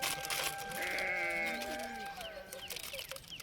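Sheep bleat repeatedly and loudly at close range while being dosed with liquid medicine for their health, several overlapping wavering calls over steady background noise.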